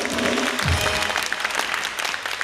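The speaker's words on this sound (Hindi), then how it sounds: "पहले मोहिब के लिए तालियां" Studio audience on a talk show applauding for Mohib Mirza, a dense, loud wash of clapping filling the whole moment, with a low thump of drum near the start.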